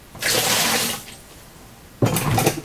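Liquid Shino pottery glaze pours in two bursts, a steady splashing rush for nearly a second, a quieter pause, then a second loud pour, close by with no talk.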